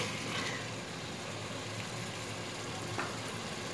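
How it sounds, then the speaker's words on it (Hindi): Goat meat (gosht) with garam masala sizzles and fries steadily in oil in a pan, a dense continuous crackle that stays even and close throughout, with no voice over it. "गरम मसाला शामिल करूँगी और अब मैं इसे 5 मिनट तक सही से भून लूँगी।"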